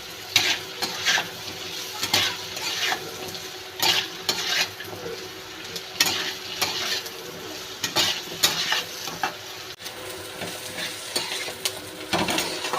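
Okra and potatoes frying in a pan, a continuous sizzle under repeated rhythmic spatula scrapes and stirs against the metal, moderately close with no talking.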